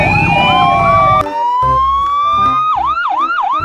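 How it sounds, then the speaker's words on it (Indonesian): A toy police motorcycle wails with a loud electronic siren, first a steady rising tone, then a rapid repeating yelp in a quick rhythmic cycle close by. "selanjutnya ada motor polisi"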